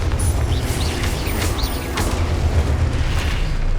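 A blasting Confringo spell in the Hogwarts Legacy video game erupts in heavy, booming explosions with rumbling low end and crackling bursts, loud and continuous over the whole stretch.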